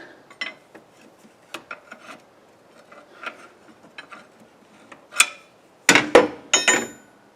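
Sharp metallic clinks, scrapes and knocks come from prying an alternator out of a dirty Subaru engine, scattered irregular taps building to a louder cluster of scraping and clanking near the end, close up with no talking.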